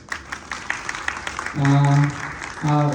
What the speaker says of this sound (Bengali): সবকিছু তাদের জন্য একটা হাততালি